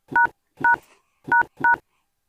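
Four distinct telephone keypad tones sound in an uneven rhythm, two quickly, then a pause before two more, loud and clear with no talk.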